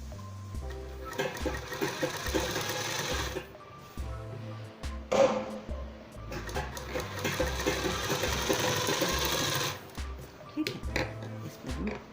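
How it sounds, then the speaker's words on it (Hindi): An electric sewing machine stitches along the neckline of a midi dress in close, rhythmic bursts that start and stop several times, with the motor whirring between pauses and someone talking intermittently. "अब इस पे ऐसे सिलाई लगाएंगे।"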